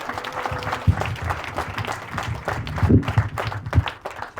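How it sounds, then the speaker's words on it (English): Audience at a campaign event in Slough for Sadiq Khan, London mayor, bursts into clapping, dense and close, with louder individual claps standing out and no speech over it. "Give him a round of applause"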